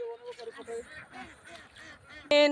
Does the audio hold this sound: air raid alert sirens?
no